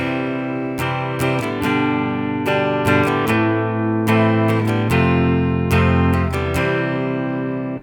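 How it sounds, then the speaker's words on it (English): A guitar strums a I-V-vi-IV chord progression, sustained chords cycling through four chords, each changing every second or so, steady and full with no voices. "A 1, 5, 6, 4 chord progression might sound something like this."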